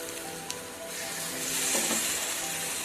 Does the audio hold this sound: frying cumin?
yes